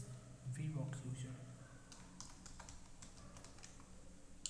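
Keys clatter on a computer keyboard as a Linux passwd command is entered, a brisk run of quiet clicks sitting under a voice as he explains what he is doing.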